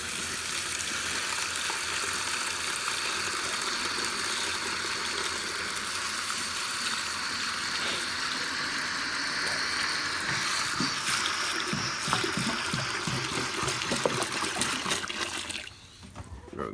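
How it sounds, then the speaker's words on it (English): Water is poured steadily into buckets packed high with paper for making paper logs, a continuous rushing splash that runs for several seconds, close and fairly loud, then tapers off near the end. "we're just going to quick add the water"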